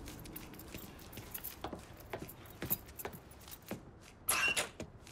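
Keys jangling as they are grabbed in the video game Mafia 3: a scattering of quiet metallic clinks and taps, sparse and close, ending in a brighter burst of jingling.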